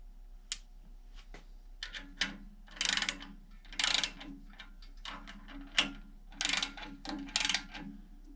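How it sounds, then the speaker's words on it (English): Nuts being tightened with a wrench on the main bearings of a pre-war Rolls-Royce engine, heard as a close series of metallic ratcheting clicks in short bursts with pauses between, over a faint steady hum. "you can even tell with tightening up the nuts how they just come right up a lot quicker."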